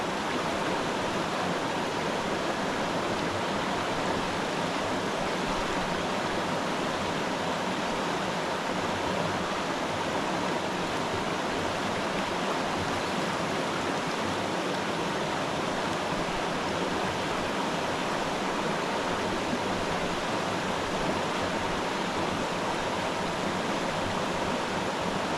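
Mountain brook trout stream pouring over a small waterfall into eddies, a loud, steady, broadband rush of water with no breaks throughout.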